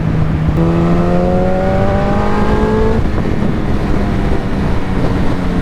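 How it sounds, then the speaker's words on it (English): A motorcycle traded for a CBR 600 F4i revs hard as the throttle is twisted, a loud continuous engine roar with a rising whine that swells, drops at about three seconds and keeps droning alone, close to the microphone. "I'm not even at like a high RPM, and I'm just twisting the throttle, and it's gone"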